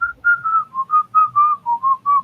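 A person whistles the Get Smart theme tune alone, a clear run of about ten bright, evenly spaced notes close to the listener.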